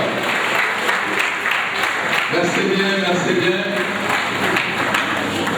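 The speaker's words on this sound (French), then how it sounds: "on applaudit très fort, il faudrait que l'applaudissement parte" An audience applauds honoured authorities at a royal festival ceremony in Tiassalé, with steady, dense clapping that fills the whole stretch. Someone briefly speaks over it.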